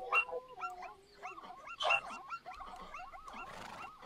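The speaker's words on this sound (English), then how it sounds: "I still hear that wolf." A wolf in a video game set among a sabertooth cat pride and zebra herds gives drawn-out, wavering howls and whimpering yips, several calls overlapping at moderate distance with no talk over them.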